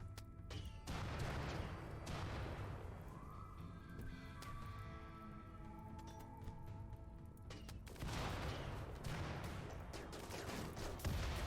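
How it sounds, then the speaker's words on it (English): Incendiary launchers fire repeatedly down a hallway in RimWorld, a dense run of gunfire-like bursts and crackling that fills the whole stretch, loud and continuous, with a brief lull in the middle before the barrage swells again. "Incendiary launchers, shoot down the hallway."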